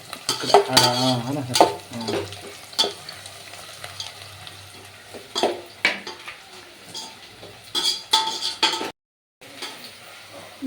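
Sliced onions fry with bay leaf and curry leaves in hot oil for egg biryani, giving a steady sizzle broken by bursts of stirring and spoon scrapes against the pot, with a brief dropout near the end.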